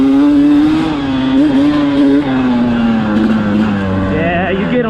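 A Beta dirt bike engine at a demo day at Burning Rock revs high on a climb, holding a steady, buzzing tone that wavers and slowly sinks as the throttle eases, with a voice talking over it.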